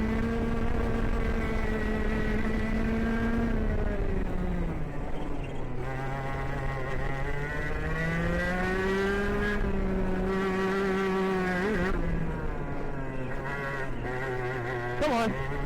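A KA racing kart engine driving on a track, a steady high-pitched buzzing whine that rises and falls with throttle through the whole stretch, close and loud.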